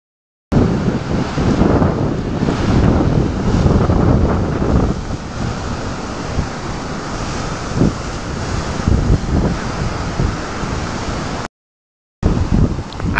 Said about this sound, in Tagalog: ito nga po ngayon ang kalagayan ng dagat din sa Barangay Bukana